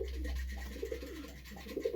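A pet pigeon in its cage gives soft, low coos in a steady run of repeated calls, close by and fairly quiet over a constant low hum.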